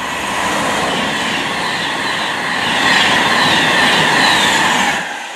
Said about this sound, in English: Passing through there, 390-042, heading to London Euston from Liverpool South Parkway